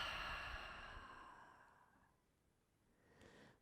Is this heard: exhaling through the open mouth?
yes